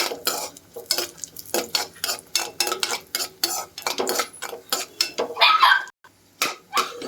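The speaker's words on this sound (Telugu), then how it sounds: "ఇప్పుడు ఇందులో కిస్మిస్ వేసుకుని దోరగా వేపుకోవాలి" Cashews and raisins fry in ghee while a spoon stirs them briskly, rhythmic metallic scraping and clinks against the pan repeating over a light sizzle, with a brief pause near the end.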